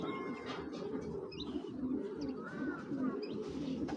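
Pigeons, including grizzle and marked fancy breeds, coo softly in a loft, with low continuous cooing and faint chirps under steady background noise.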